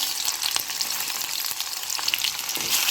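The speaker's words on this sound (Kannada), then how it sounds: "ನೋಡಿ ಒಗ್ಗರಣೆ ಆಗ್ತಾ ಇದೆ" Spices tempering in hot oil with chopped tomato sizzle and crackle steadily up close, a continuous bright frying hiss with small pops.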